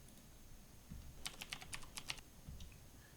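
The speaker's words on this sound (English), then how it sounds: "that's actually just me typing Jiren on my keyboard." Quiet burst of about eight sharp, clacky keystrokes on a computer keyboard spelling out a short name, heard close in a faint, otherwise still room.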